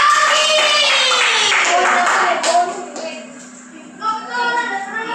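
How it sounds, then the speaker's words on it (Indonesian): Sixth-grade classroom applause in Indonesia, a steady burst of many hands clapping mixed with children's voices, loud and close, fading then rising briefly again. "beri aplaus dulu untuk Saki."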